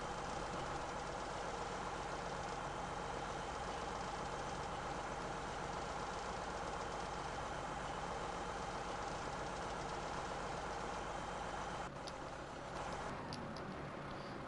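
A tractor engine idles in the Farming Simulator 17 video game, a steady, low mechanical drone running continuously with a brief change near the end, with no one speaking.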